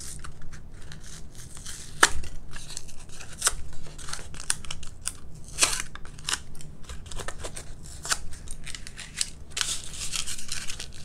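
Scored foam is scraped and torn out of paper-faced foam board with the back of a razor blade for a model T-28 Trojan plane, giving close, irregular crinkly scratches and sharp ticks.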